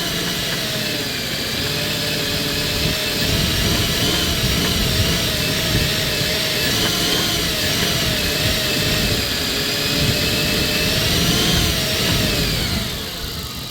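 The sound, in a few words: 1997 Dodge Caravan engine running on five cylinders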